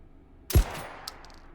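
A single suppressed M1014 shotgun blast fires a flechette round through plywood, a close, heavy thump with a short crack, followed by a brief decaying tail and a faint clink.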